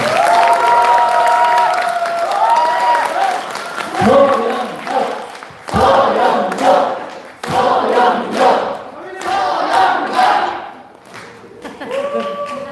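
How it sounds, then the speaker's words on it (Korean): An audience at a political lecture event applauds and cheers as a National Assembly member is welcomed to the stage, steady clapping with bursts of louder cheering, while a host's voice and other voices speak over it. "모두 큰 박수 부탁드리겠습니다."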